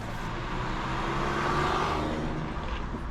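A 2025 Toyota Camry SE AWD on an early morning drive gives a steady, muffled in-cabin engine drone with road rumble and a faint whir as it rises slightly mid-clip.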